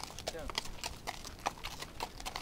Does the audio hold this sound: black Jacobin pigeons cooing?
no